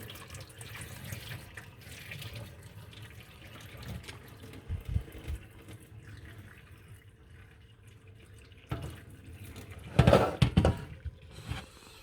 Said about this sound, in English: Now I need to pour out the water and sieve out the water inside.